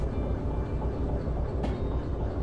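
A train shunts through a siding at night in Derail Valley, a steady low rumble of rolling rail cars with a faint rhythmic clatter and a short sharp metallic click, with no voices.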